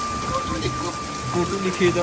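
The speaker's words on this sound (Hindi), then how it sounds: "जब ज़्यादा बारिश आता है तो ज़्यादा पानी आता है।" Heavy downpour drumming steadily on surfaces, a dense continuous wash of rain under a voice speaking Hindi close by.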